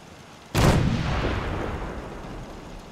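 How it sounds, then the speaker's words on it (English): An artillery barrage in the Fallout 4 game lands as one sudden heavy boom. A long rumbling tail follows and fades slowly over a couple of seconds, with no voices. "All batteries, prepare to fire on my mark."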